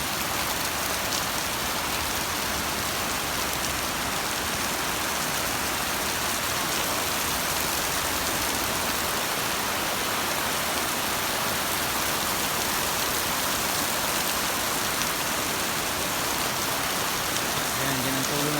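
Heavy rain pours steadily on an indoor tennis court during the Palarong Pambansa, a dense, loud, continuous hiss of rainfall and drips with no break throughout.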